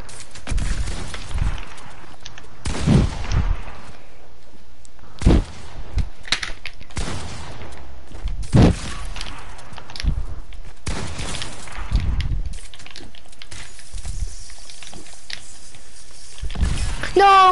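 Shotgun blasts from a video game, several sharp broadband bursts spaced irregularly over a low background, with people talking around them.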